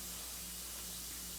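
A bath bomb sprays and fizzes while dissolving, giving a steady, soft broadband hiss with no clear breaks, close by and quiet.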